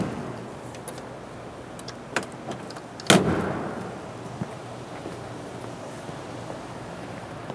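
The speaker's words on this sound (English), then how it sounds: "The doors seem to open and close really nicely as well." A 1928 Packard roadster's door clicks, then slams shut with a solid thud, followed by a few lighter knocks in an otherwise quiet space.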